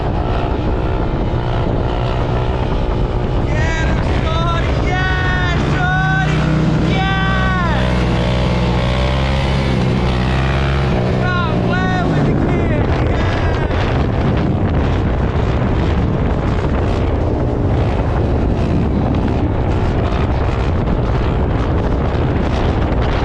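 Dirt bike ridden on a wheelie along a Baltimore street, its engine rising and falling in pitch as it passes fairly close, then fading into steady traffic and wind noise, with voices faintly in the background.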